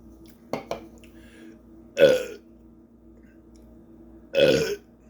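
Two loud, throaty burps a couple of seconds apart, preceded by a pair of small clicks in an otherwise quiet room.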